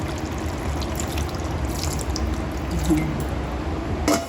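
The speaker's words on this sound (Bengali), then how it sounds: "সামান্য জল দিয়ে দিই" A little water is poured into a simmering curry of pointed gourd, potato and morola fish, giving soft close dripping and squishing liquid sounds over a steady cooking hiss.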